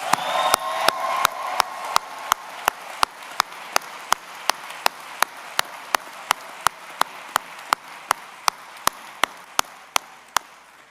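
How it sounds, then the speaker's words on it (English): A graduation crowd at a business school commencement keeps up a dense, even wash of applause for the graduates. Sharp, regularly spaced clicks cut through it all the way, with no voices above the clapping. "let's give our graduates just one more round of applause"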